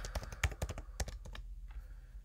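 Close keys on a computer keyboard clatter in a short, quick run of typing, then stop, with no voice.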